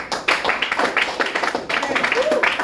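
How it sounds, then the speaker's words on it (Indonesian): Students clap after a class presentation on viruses. The clapping is close and uneven, with individual claps audible and voices talking over it. "Baik, tepuk tangan."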